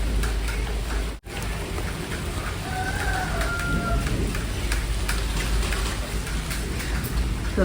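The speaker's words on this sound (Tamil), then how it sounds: "வெளியே பார்த்தீங்கன்னா மழைங்க" Steady rain falls outside a house, a continuous close hiss and patter of drops that fills the whole stretch with no talking.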